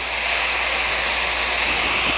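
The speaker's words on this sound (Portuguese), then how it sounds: "Eu deixo refogando." Bitter melon sizzling in a pan with pork and miso, a steady, loud broadband hiss of frying that holds evenly throughout with no talk.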